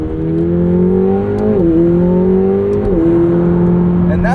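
A 2025 McLaren 750S with a 740 hp twin-turbo V8 accelerates at half throttle on a morning commute, its engine note climbing steadily through two upshifts, loud and close from inside the cabin.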